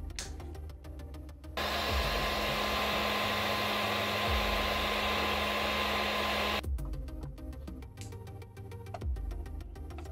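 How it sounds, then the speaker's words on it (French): A hair dryer switches on and blows with a steady roar and whine for several seconds, then cuts off, close by in a quiet room. "tout simplement en le chauffant à l'aide d'un sèche-cheveux"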